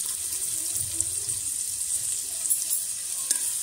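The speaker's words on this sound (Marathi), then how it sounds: "तेल गरम झालं की त्यात आपण बारीक चिरलेला कांदा घालून घेऊ।" Finely chopped medium onion hits hot oil in a pan and sizzles in a steady, hissing fry, close and continuous for a few seconds.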